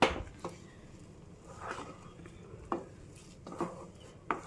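A semolina and flour mixture being stirred in a pan, giving a few sparse scraping knocks of spoon against the pan, close but soft, with quiet pauses in between.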